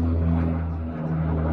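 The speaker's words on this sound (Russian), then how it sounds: "самолет Ан-24, что ли?" An Antonov An-24 propeller airliner takes off from Yakutsk airport, heard as a steady, droning engine rumble at moderate distance, continuous throughout with no speech.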